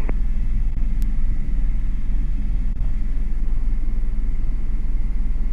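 An Airbus H125 helicopter, airborne on a post-maintenance check flight, fills the cabin with a steady, loud low rumble and engine drone that holds level throughout, with no speech.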